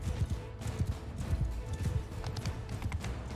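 Horse hooves gallop in Mount & Blade II: Bannerlord, a rapid, steady clatter of close thuds with a faint whinny in the mix, carrying on loudly throughout.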